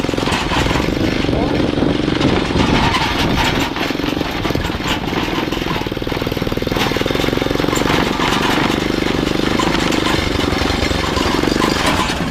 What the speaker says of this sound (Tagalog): Ito yung lubak-lubak road. Kailangan muna natin dahan-dahan. Kasi kawawa ang motor.